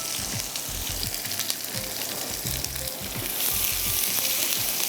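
Onion sizzles and fries steadily in a hot pan, a dense close crackle with occasional stirring scrapes and no talking.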